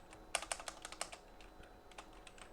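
Typing on a computer keyboard while entering an Excel function, a quick cluster of crisp close keystrokes that trails off into lighter, sparser taps.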